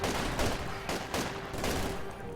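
Dense, continuous battle noise from artillery shells and gunfire in the Company of Heroes 2 video game, with overlapping blasts and rattling shots swelling and receding throughout, loud and busy with no talking.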